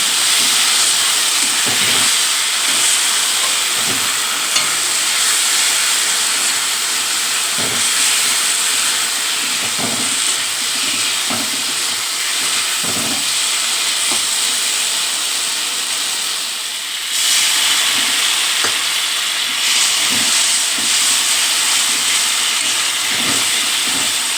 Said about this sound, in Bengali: দিয়ে বেশ ভালো করে কষিয়ে নেব আর পরে একটু অল্প অল্প করে জল দেব